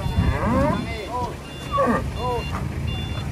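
Huge cattle moo several times close by while being unloaded from a truck, low bellowing calls over engine rumble and intermittent reversing beeps, with people talking around them.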